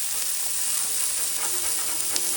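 A spatula scrapes smashburger patties across a hot Blackstone griddle, giving a thin, steady sizzle with soft scraping strokes, close and moderately quiet.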